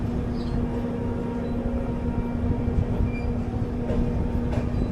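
Yesvantpur–Kochuveli AC Express train gathering speed, a steady close rumble of rail running with a persistent hum and faint rhythmic clatter throughout, no voices.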